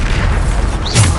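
A Bombarda spell goes off in Hogwarts Legacy, a loud, sudden deep boom with a bursting crackle, short and close.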